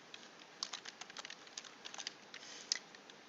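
Quiet, rapid clicking of keys on a computer keyboard as a search is typed, irregular taps close by with no talking.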